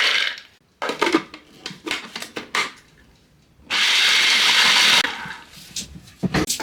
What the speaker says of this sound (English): So we're supposed to blitz the hazelnuts for around 30 to 60 seconds